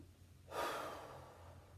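One faint, breathy exhale from a person during exercise, a brief airy rush that fades out over about a second.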